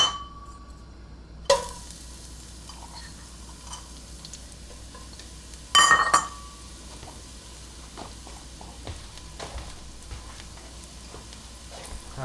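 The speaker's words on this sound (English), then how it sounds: "Plenty of oil to cover these garlic babies. Just let them sit there and brown." Garlic cloves frying in plenty of oil at 160 Celsius: a soft, steady sizzle with scattered ticks and two brief louder clinks of utensils against the pan.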